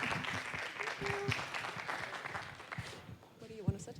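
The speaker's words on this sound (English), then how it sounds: "Round of applause." Conference audience claps to welcome two speakers onto the stage, a moderate scattered round of applause mixed with low voices and footsteps, thinning toward the end.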